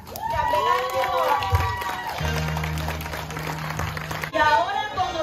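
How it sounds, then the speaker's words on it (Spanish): Guests at a quinceañera party applaud and cheer the honorary escort, a loud crowd roar of clapping and shouting under a steady music tone, with talk over the top. "Démosle un fuerte aplauso a Javier Villegas, chambelán de honor."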